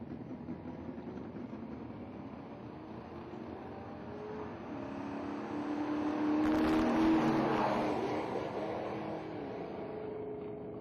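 At a drag strip, a 2002 Dodge Dakota pickup and a 2001 Mustang convertible launch down the track. Engines build to a rising roar around the middle of the run and then fade back to a steady distant drone.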